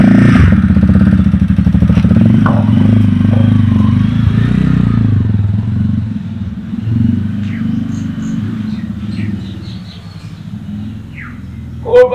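A new motorcycle's engine rumbles loudly up close, then fades gradually as the bike rides away, leaving faint birdsong and small outdoor noises behind.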